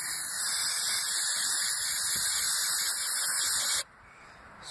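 Brake cleaner sprays from an aerosol can onto an engine valve seat on a 22R cylinder head in one steady, loud hiss that cuts off abruptly near the end.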